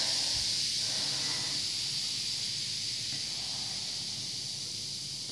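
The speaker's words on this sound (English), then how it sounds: "They fizz pretty fast." A bath bomb made with cream of tartar fizzes in water, giving a steady, continuous hiss that is close and fairly loud throughout, with no talking.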